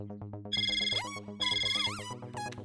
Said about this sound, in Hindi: सिर्फ रिंगटोन सुननी थी।